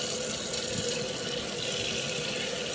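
Tap water runs steadily during a cat's bath, a continuous close hiss and splash with no breaks.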